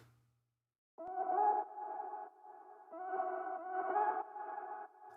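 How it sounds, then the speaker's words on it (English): Chopped vocal effect from a reggaeton mix: bright, pitched vocal fragments repeat in rhythmic bursts with an echoing, effected tone, loud and alone with no talking. "this is what I call the vocal chop"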